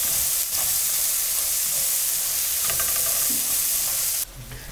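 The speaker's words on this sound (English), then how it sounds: "we're just going to toss this together for a few minutes until our onions are nice and" Onions, ginger and garlic hiss and crackle steadily in a hot pan as they are tossed together for a chicken wing curry, a loud continuous sizzle with a few scraping stirs, easing off near the end.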